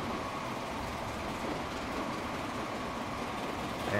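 A Norfolk and Western steam locomotive racing in the game Transport Fever gives a steady, continuous rumble of rolling train wheels and running noise, moderately loud throughout with no voices.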